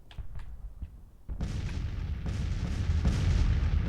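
Artillery fire in the Grand Tactician Civil War strategy game: a few sparse booms at first, then a sudden dense, continuous roar of cannon and gunfire building steadily louder to the end.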